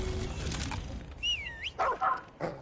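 A dog in the video game Remnant 2, played on Nightmare difficulty, gives short barks and high whimpering yips in a few bursts over a quiet game backdrop, with no talk.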